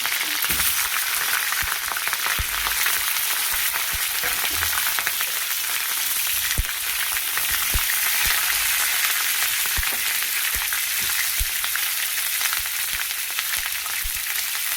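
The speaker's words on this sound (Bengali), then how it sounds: "তেলও গরম হয়ে গেছে, দিয়ে দেবো ফুলকপি। ফুলকপিটা দিয়ে দিচ্ছি।" Steady, dense crackling sizzle of cauliflower frying in hot oil, continuous and close, with occasional louder pops.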